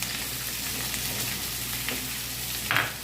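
Shredded cabbage frying in a pan for Jain veg chilli, giving a steady, close sizzle throughout with a brief brighter spatter near the end and no talking.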